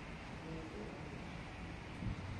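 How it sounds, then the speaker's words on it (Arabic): Wind blows across the coast near a large mosque under cloudy skies, a steady broadband rush with a brief gust near the end. "شوفوا الريح"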